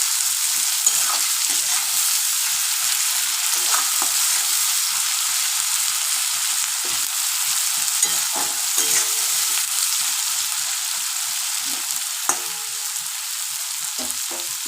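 Something fries in a pan until soft for a Bengali egg curry, a continuous close sizzling hiss with frequent small crackles and occasional utensil stirs, no voices.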